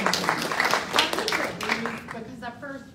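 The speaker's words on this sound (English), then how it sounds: "So you get a round of applause." Audience applause at a housing rights awards ceremony: a dense burst of clapping that fades over about three seconds as a voice begins speaking.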